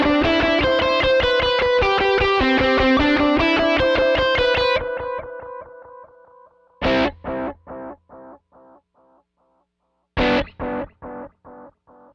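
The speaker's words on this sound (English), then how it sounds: "So here's like a lead with the analog delay going." Distorted electric guitar lead through an analog delay pedal: a sustained, dense phrase fades out, then two picked notes each echo in a series of repeats that grow quieter and darker.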